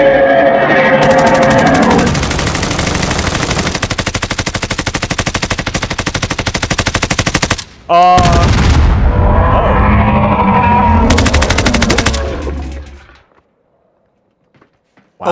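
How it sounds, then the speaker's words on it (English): Sustained rapid automatic gunfire in the Modern Warfare video game, loud and dense for about seven seconds, a brief break, then another long burst that cuts off into near silence. "Then we immediately just start shooting each other"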